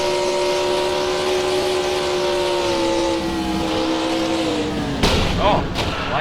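Onboard Kyle Petty's stock car at an Atlanta race: a steady, loud engine drone runs for about five seconds, then two hard, broadband crash impacts as the car slams head-on into the 77 car.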